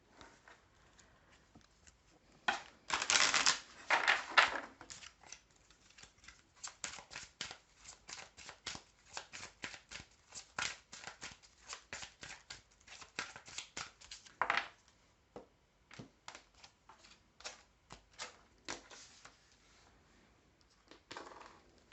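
Tarot cards are shuffled and dealt onto a table, a quiet, close run of crisp riffling bursts followed by scattered flicks and soft slaps as cards are laid out one by one.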